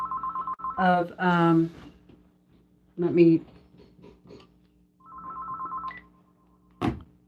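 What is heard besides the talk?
telephone ringing from scam phone callers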